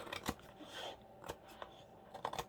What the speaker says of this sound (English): I'm going to trim down there again